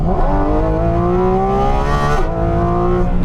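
A Porsche 718 Cayman GT4 RS on track, its 4-litre flat-six from the 911 GT3 revving hard toward a 9,000 RPM limit: a loud, close, rising mechanical howl climbing through gears, with a brief dip at a shift.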